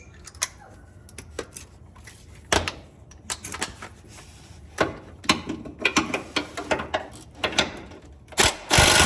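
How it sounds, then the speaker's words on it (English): A ratchet with an extension works a rear bolt loose on an F-body car built from junkyard parts, giving bursts of quick clicking pawl ticks interspersed with metallic clanks, near and fairly loud, with no talk. "You can slide your extension through to get to this rear bolt."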